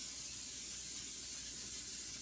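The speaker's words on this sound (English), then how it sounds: "Then you're going to want to add your spray." Cooking spray hisses steadily onto a pan warming on low heat for eggs, a soft, continuous, fairly quiet spray with no pauses and no voices.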